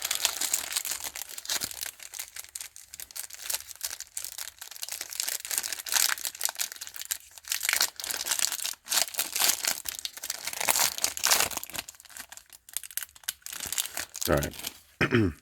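The plastic wrappers of 1989 Topps baseball card packs are crinkled and torn open nearby, a continuous run of crackling, rustling bursts with short pauses, ending in a sharper rip.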